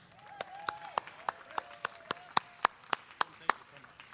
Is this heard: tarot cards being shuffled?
no